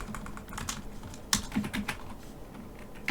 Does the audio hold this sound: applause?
no